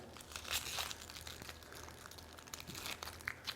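Dry, papery outer skin peeled off half an onion in a kitchen, with close, continuous crinkling and crackling and a few sharper tearing snaps.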